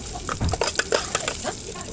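Chopped onion, garlic, two dried chillies and whole cumin frying in a tempering, giving a close, brisk sizzle with stirring clatter over a few seconds, no voices.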